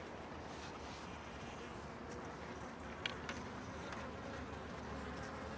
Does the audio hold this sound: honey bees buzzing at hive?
yes